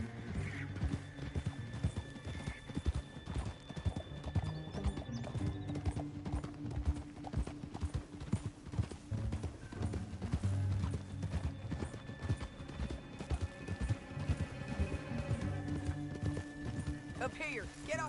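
Horse hooves clatter in a quick, continuous galloping rhythm in the video game Red Dead Redemption 2, with occasional whinnies and rumbling background noise throughout.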